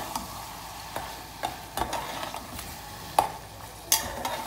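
Ginger garlic paste fries in a pan for aloo keema, a soft continuous sizzle under repeated sharp scraping clinks of a spoon stirring against the metal, close by.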